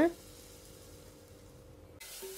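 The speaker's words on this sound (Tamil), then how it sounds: "இப்போ இஞ்சி பூண்டு சேர்த்துட்டு இதை நல்லா வதக்குங்க" Soft, steady sizzling of onion, ginger and garlic frying in a pan, quiet and continuous, with a brief louder sound at the start.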